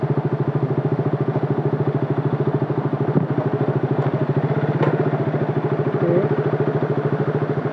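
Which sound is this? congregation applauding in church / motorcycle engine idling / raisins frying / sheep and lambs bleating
motorcycle engine idling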